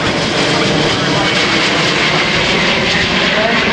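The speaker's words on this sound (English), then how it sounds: "Third up, the Lockheed TriStar, number 261, another tanker transport." A Lockheed TriStar tanker transport aircraft passes in an RAF flypast at the RIAT 2012 air show, its jet engines making a loud, steady, broad roar with nothing else standing out.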